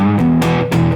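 Electric guitar played through a Neural DSP Soldano SLO100 amp plugin with a slightly gritty clean-channel tone, a loud sustained chord followed by two more strummed chords alone.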